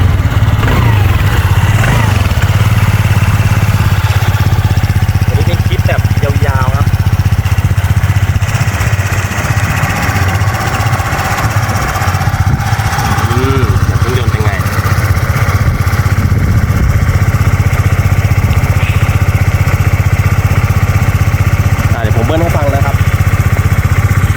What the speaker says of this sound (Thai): ฟังเสียงเครื่องยนต์